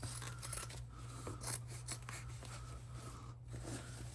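Fabric scissors snip through the sides of a sewn mini tote bag, a few crisp cutting strokes in a row, close and fairly quiet over a steady low hum.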